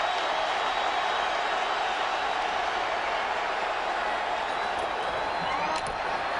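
Steady, dense roar of a football stadium crowd at the 2006 San Francisco 49ers at Arizona Cardinals game, cheering on first and goal from the five; a constant wash of noise with no breaks.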